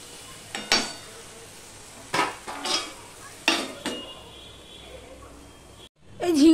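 Ridge gourd fries with salt and turmeric in a kadai, a faint sizzle beneath a few sharp spatula scrapes and clinks against the pan, spaced irregularly, then a brief quiet moment at the end.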